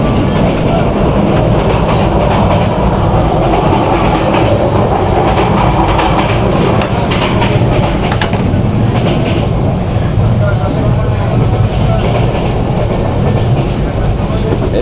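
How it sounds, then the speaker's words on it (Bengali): Suborno Express train on the Chattogram–Dhaka line in Bangladesh runs at speed, with a loud, steady rumble and rhythmic wheel clatter throughout, heard from on board. "আমাদের ট্রেন দুর্দান্ত গতিতে ছুটে চলছে"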